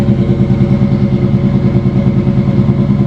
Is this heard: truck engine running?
yes